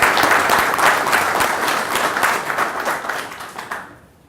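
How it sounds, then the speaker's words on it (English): An audience at a business announcement event breaks into loud, dense applause that carries on for several seconds and then fades out. "Let's give them applause."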